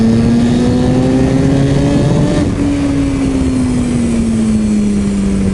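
A Kawasaki motorcycle engine revs steadily and loudly up close, its pitch climbing slightly and then sagging into a sustained high idle drone, with no voices present.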